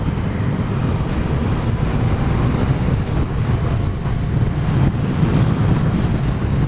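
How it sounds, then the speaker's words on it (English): Wind roars constantly across the microphone during a motorcycle ride, a loud dense rush with a low engine rumble beneath it and no talk. "Get a little bit of wind, and as always, a little bit of headspace."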